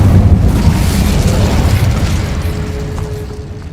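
Booming, roaring fire spell effect from a video game, with a loud low rumble that bursts at the start and slowly fades over a few seconds.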